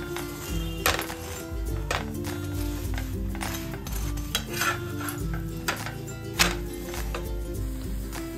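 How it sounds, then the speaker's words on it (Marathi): A radish paratha is roasted and flipped on a hot pan. Repeated metal scrapes and clanks from a spatula sit over a soft sizzle, with a low steady hum underneath and no speech. "दोन्ही बाजूने पराठा अगदी मस्त असा आलटून पलटून शेकून घेऊयात।"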